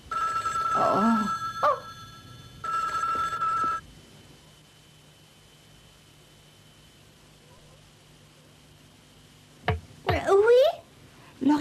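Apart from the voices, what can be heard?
telephone bell ringing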